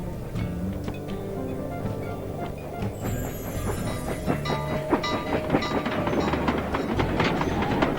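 A train rolls past in the video game Sly 2, its steady rumble and clickety-clack of wagons building louder toward the end over game ambience, with a faint whistle-like tone high above.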